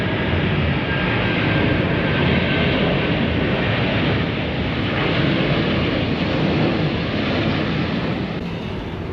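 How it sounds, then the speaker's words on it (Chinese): An airplane taking off near a riverside viewing platform in Taipei, a loud, steady broadband roar that holds for the whole stretch and fades slightly toward the end. "飞机起飞了"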